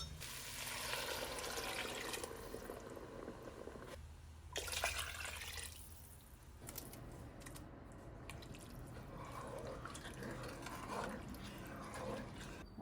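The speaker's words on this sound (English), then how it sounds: "I will pour just 2 more cups of regular water into the pot" Two cups of plain water poured into a cooking pot for tomato soup, a faint, steady splashing and trickling stream that pauses briefly partway through, heard close with no talk over it.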